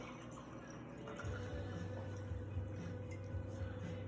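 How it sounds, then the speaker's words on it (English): 19 Crown Sauvignon Blanc wine pours steadily into a glass, a continuous liquid trickle and splash with a low background hum and no talking. "we're gonna pour, again, the 19 Crown Sauvignon Blanc."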